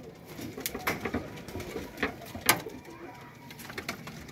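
Pigeons coo softly at close range in short, repeated calls, joined by scattered clicks and light knocks and faint background voices.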